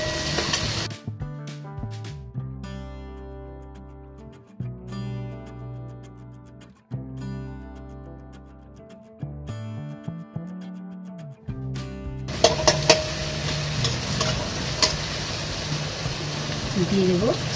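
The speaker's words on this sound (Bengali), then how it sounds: "এটাকে একটু হালকা করে নাড়িয়ে নেব, কোনোটাকে ভালোভাবে কিন্তু ভাজা করতে লাগবে না। এবার দিয়ে দিচ্ছি ক্যাপসিকামটা," Capsicum being added and stirred in a hot pan as a filling for veg momos. After a long stretch of tonal music, a bright sizzle bursts in near the end and keeps crackling with stirring clatter.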